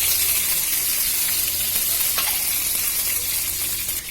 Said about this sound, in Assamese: ইয়াতে মই পাঁচফোৰণ অলপমান দিম, শুকান জলকীয়া আৰু তেজপাত।